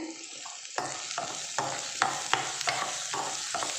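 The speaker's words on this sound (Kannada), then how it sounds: "ಇದಕ್ಕೆ ನೀಟಾಗಿ ಫ್ರೈ ಮಾಡ್ಕೊಳ್ಬೇಕು" Vermicelli upma mixture with chopped chilli frying in a pan, a steady sizzle broken by repeated scrapes and knocks of a spoon stirring it, close and fairly loud with no talking.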